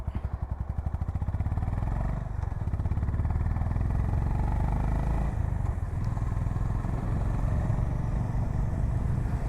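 A Honda CB350 H'ness motorcycle being ridden, its single-cylinder engine thumping in a steady, fast pulse, loud and close as it builds speed at first and then holds a constant rumble.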